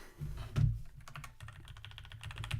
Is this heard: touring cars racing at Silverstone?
no